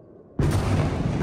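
An explosion in the sky above Tel Aviv during an Iranian missile attack on Israel hits suddenly after a quiet moment, a loud broad roar that keeps rumbling without fading.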